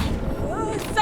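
A fiery Confringo spell blast from the Hogwarts Legacy video game, a short burst with a rising whoosh, heard over steady game background noise.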